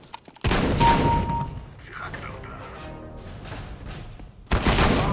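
Close, loud gunfire from a sniper shotgun in Counter-Strike: Global Offensive, with a sharp blast, a ringing decay and game noise, then a second heavy shot at the end.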